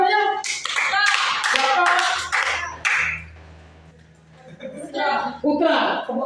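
Audience clapping at a school talk on recognizing potential, bursts of hand claps under and between speech, with a pause of quieter talk in the middle.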